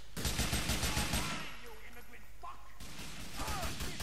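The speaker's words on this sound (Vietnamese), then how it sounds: "Nó bắn tao kìa phiêu ơi" Rapid automatic gunfire rattles loudly in a GTA IV shootout, stops, then resumes, while someone talks over the gaps between bursts.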